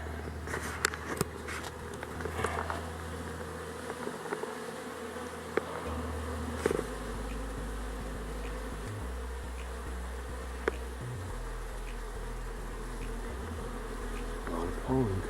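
Honeybees, red dot daughters in a backyard hive, hum in a steady, dense drone that holds for the whole stretch with no talking, close and even in level.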